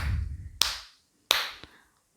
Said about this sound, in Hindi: तभी वहाँ पर तालियों की आवाज़ होने लगी